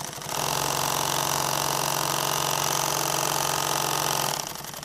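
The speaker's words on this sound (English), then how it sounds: "And now I'm just going to come back and sew this down here." Sewing machine running steadily while stitching down the edge of a tactical apron, a continuous close, loud motor whir with fast needle rhythm that starts and stops cleanly, no talking.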